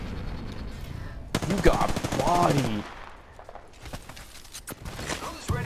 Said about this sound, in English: he's still shooting with that Kraber